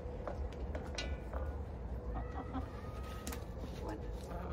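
Backyard chickens cluck and murmur at a feeding spot during egg collection, soft steady clucking over a low background hum with occasional higher calls, while a person talks nearby.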